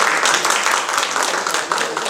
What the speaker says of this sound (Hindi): इनका जोरदार ताली से स्वागत।